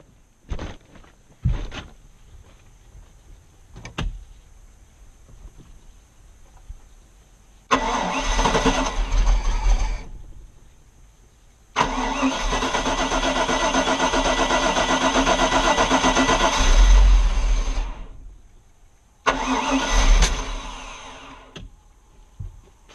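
A V8 boat engine cranks in short bursts, catches, and runs unevenly near idle for several seconds, then cuts out and is restarted briefly; loud and close, with no talking.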